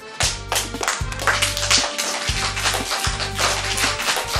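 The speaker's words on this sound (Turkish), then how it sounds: "Hadi çocuklar, Orçun'u alkışlıyoruz" Children applauding in a classroom, a lively burst of many hands clapping close by with a rhythmic thumping beat underneath, continuing steadily throughout.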